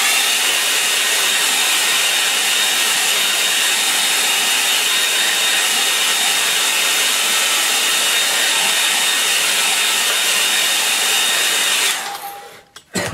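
A hair dryer blows steadily to dry the paint on a simple snow scene. The whirring roar stays loud and even for about twelve seconds, then cuts off abruptly with a short clatter.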